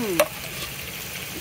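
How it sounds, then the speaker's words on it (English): Oil sizzles steadily in a pan as sea robin (gurnard) fish fillets fry, with a brief metallic scrape at the start, close and without voices. "We are going to fry this until it's brown."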